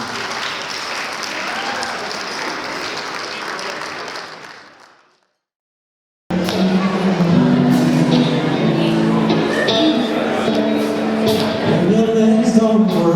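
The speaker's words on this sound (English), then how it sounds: "Let's give another round of applause for Linda and Stephen" Wedding guests applaud Linda and Stephen with a steady, loud round of clapping that fades out after about five seconds. A short silence follows, then other louder sound with voices.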